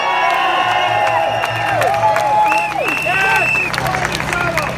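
A large outdoor crowd at a Dublin freedom rally cheers, whoops and claps in a loud, sustained wash of voices, with shouts and whistles rising above it.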